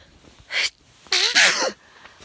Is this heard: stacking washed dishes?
no